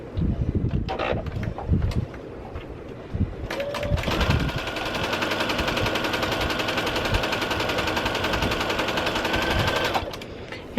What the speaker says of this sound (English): So let's sew 2 pairs together.